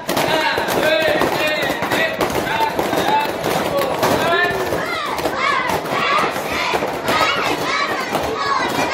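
First-grade children stomp and thump loudly during a sensory class over a steady noisy background, with excited kids' voices shouting and chattering throughout.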